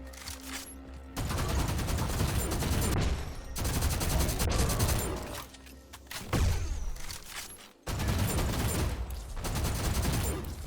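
Full-auto weapon fire in the fast shooter GTTOD: Get To The Orange Door, long sustained bursts of rapid shots broken by brief pauses, with a swooshing effect and thuds between volleys.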